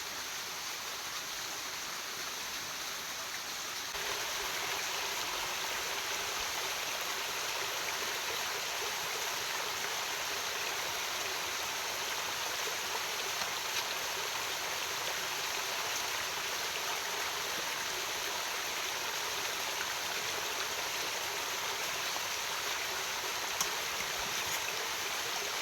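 A forest stream rushes near a waterfall at a jungle campsite, a steady, full wash of flowing water that stays constant throughout and gets slightly louder after the first few seconds, with no voices.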